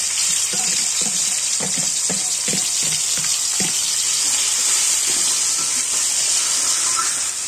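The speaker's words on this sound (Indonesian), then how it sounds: "masak jamur digoreng sampai kering ya digoreng" Wild mushrooms seasoned with salt and garlic fry in a pan, giving a steady, close sizzling hiss with scattered soft pops and clicks of a utensil stirring throughout.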